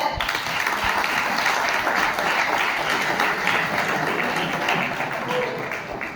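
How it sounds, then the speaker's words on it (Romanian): At a golf cup awards gathering, the crowd gives the competitors a sustained round of thick, even applause from many hands that tapers slightly at the end. "vreau să vă felicit pe toți concurenții, aplauze!"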